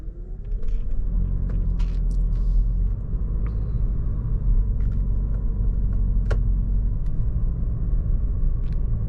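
A Lexus NX350h hybrid SUV drives at night, heard from inside as a steady, loud low road and engine rumble with a few faint clicks and ticks, without talk.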